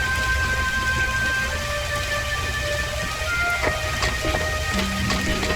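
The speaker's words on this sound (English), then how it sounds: "You cannot go out in that rain." Steady rain hisses and patters in LEGO Star Wars: The Force Awakens, a dense, even downpour filling the scene with a low rumble beneath and a few sharper drips and tones rising over it.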